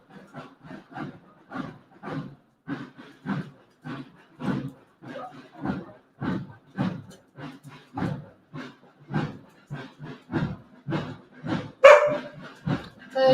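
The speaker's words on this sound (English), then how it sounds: "The dogs will start barking now." Dogs bark in a Spanish village, a long run of regular, evenly spaced woofs at moderate distance, with a sharper, louder yelp near the end and no talk over them.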